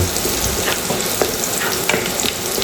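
Garlic fries in a pan, giving a steady, loud, close sizzle with crackles and stirring throughout.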